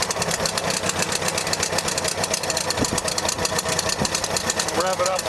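A MirroCraft boat engine idles with a steady, rhythmic knocking chug while a person talks over it close by.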